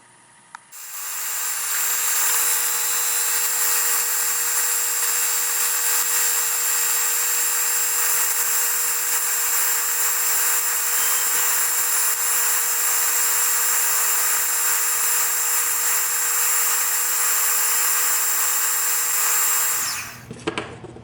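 High, steady whine of a belt grinder with an 80-grit belt grinding a steel straight razor blade, a hissing, abrasive edge, running loud and unbroken before spinning down at the end.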